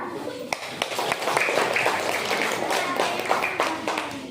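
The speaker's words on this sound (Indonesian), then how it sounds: "Tepuk tangan dulu untuk semuanya." Classroom applause after a student group's presentation, scattered hands clapping with a few sharp, distinct claps standing out over a busier wash of clapping and faint background chatter.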